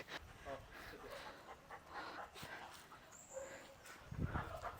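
Small panting breaths and faint whimpers from a submissive dog during training, quiet and close, mixed with soft movement noise and a brief thump near the end.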